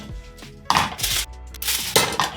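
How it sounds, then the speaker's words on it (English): A frying pan being shifted on a stovetop, several harsh metallic scrapes and clanks against the burner grate, close and loud, with no speech. "get them out, pop those to one side, get rid of this pan"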